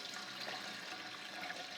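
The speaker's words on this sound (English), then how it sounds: "I'm going to add enough water in the bottom there." Water pours steadily into the bottom of a stock pot canner, a soft continuous rushing splash throughout, fairly quiet and close.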